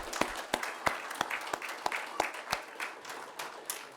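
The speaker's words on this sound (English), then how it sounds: "we're going to give you a round of applause" A church congregation gives a round of applause, a moderate crowd clapping with sharp, distinct rhythmic claps standing out over a softer patter, fairly close, fading slightly toward the end.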